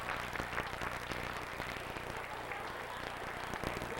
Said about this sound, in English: We're going to give you all a nice round of applause.